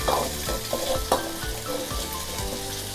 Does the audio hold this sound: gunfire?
no